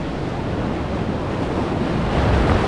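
Steady rushing ocean surf at a beach resort with heavy wind buffeting the microphone, growing slightly louder toward the end.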